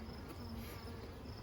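Honeybees buzzing in a single brood chamber hive during an inspection, a continuous close droning hum with no talk.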